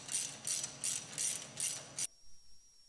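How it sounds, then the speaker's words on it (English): A ratchet wrench snugs down cap screws on the cylinder of a Jet Edge iP60-50 waterjet pump, giving about five quick bursts of close metallic clicking, then a brief faint tone. "Then draw the cylinder in with two of the cap screws, alternating from side to side."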